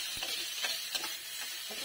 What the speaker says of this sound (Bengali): এবার আলু কুচিগুলো দিয়ে দেবো এক এক করে